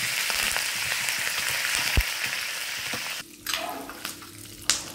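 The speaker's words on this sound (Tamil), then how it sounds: "போட்டு கருவேப்பிலை போட்டுடலாம். இதில் தண்ணி இருக்கும், கொஞ்சம் வெடிக்கும்." Curry leaves being tempered in hot oil give a steady, close sizzle with scattered sharp crackles and pops, dipping briefly before bursting again.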